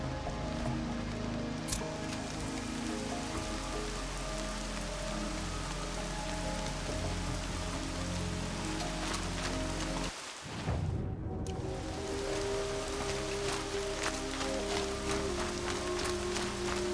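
Steady rain falls across a video game landscape, a dense continuous patter on surfaces with drips throughout; a brief dip midway breaks the hiss before it resumes, with no one talking.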